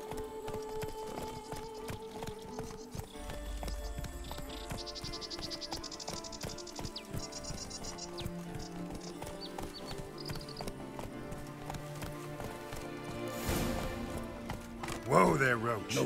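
Roach the horse gallops in The Witcher 3: Blood and Wine, with steady clip-clop hoofbeats running nearly throughout over game music and ambience, ending with a louder burst near the end.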